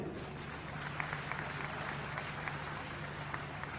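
Audience at a political rally in Haryana clapping in sustained, even applause, a dense steady patter of many hands heard from a distance without a break.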